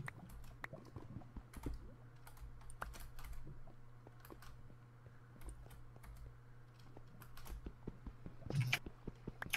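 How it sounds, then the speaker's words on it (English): A computer keyboard being typed on continuously, with rapid irregular clicks and keystrokes close by, over a faint steady hum. "If you can, like, at all hear my keyboard,"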